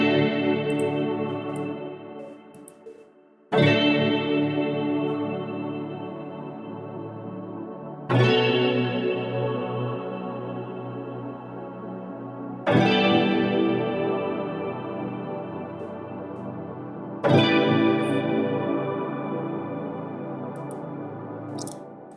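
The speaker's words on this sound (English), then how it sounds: "So this is what the chord sounds like." Layered synth chords from a remake of a song ring out with chorus, echo and reverb effects, five sustained swells each struck and slowly decaying, with no voices.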